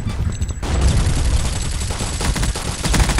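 Shotgun fire in the game Boring Man during a gun-game match, a dense, loud burst of overlapping shots that rolls on continuously with no pause.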